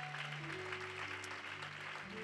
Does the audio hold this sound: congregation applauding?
yes